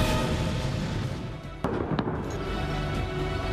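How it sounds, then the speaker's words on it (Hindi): Explosions at a military oil depot struck by Russian air strikes, heard as a sustained loud roar with a sharp blast near the middle and a second burst shortly after, no voices. "रूसी हवाई हमलों के बाद सैन्य तेल डिपो में जोरदार विस्फोट हुआ"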